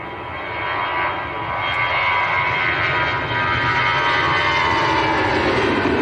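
An EasyJet Airbus A320 departing Manchester Airport toward Belfast, heard as a loud, steady broadband jet roar that swells slightly and holds continuously throughout, with no voices.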